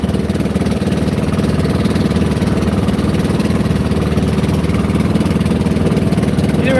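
A 22 horsepower boat engine runs steadily at close range, giving a loud, constant low mechanical drone with a fine rapid pulse and no talk.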